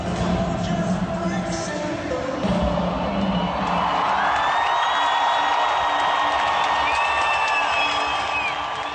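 Concert crowd at a show cheers and applauds, a dense wash of clapping and whoops that swells after a few seconds, with a faint voice and tonal sound underneath.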